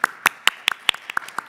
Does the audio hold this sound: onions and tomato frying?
no